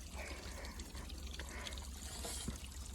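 Cold spring water running from a small pipe straight out of the mountainside in Austria, a steady close trickle and splash that continues without a break under light outdoor ambience.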